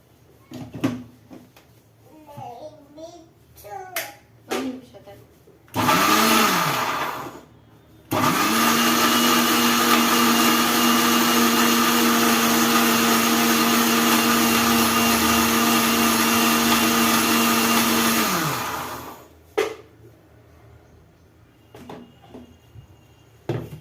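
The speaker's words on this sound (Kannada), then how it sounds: "ಈಗ ಒಂದು ರೌಂಡ್ ಮಿಕ್ಸಿಗೆ ಹಾಕೊಳ್ಳೋಣ" An electric mixer grinder grinding orange peel whirs loudly in a short burst, then runs steadily for about ten seconds before stopping, with quieter clatter and movement around it.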